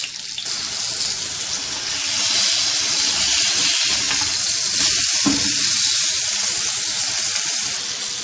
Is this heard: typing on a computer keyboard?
no